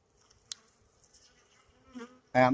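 Faint buzzing of honey bees at a hive over a quiet background, with a brief click near the start and a louder, close burst of buzzing at the end.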